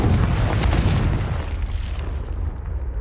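The Confringo fire spell in Hogwarts Legacy bursts with a loud, close boom that rumbles deep and fades out over a few seconds.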